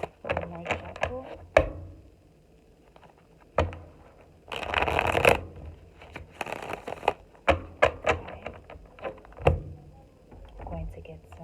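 A deck of tarot cards shuffled by hand, producing bursts of riffling and soft slaps with a longer flurry midway, close and moderately loud in a quiet indoor space.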